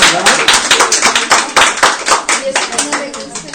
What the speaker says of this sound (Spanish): Un aplauso a la teacher,